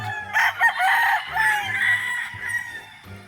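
About 800 chickens on a poultry farm cluck and squawk together in a busy, overlapping chorus, fairly close, with irregular bursts of calls across the whole stretch.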